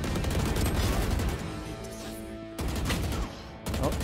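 Rapid bursts of video game gunfire crackle through a hectic online shooter match, with short breaks and sustained loud volleys across a few seconds.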